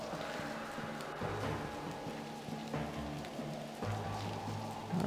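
Steady rain falls in the Western video game Desperados: Wanted Dead or Alive, a constant soft hiss of rain on surfaces at low volume that stays even throughout, with faint repeating low thuds underneath.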